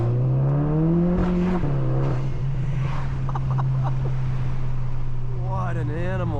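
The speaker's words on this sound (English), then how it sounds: "We'll do a little pull with the window down, see if we can get any really nice intake noises." A car engine pulls hard under acceleration with the window down, its intake droning and rising in pitch through the gears, loud and close, with brief speech alongside.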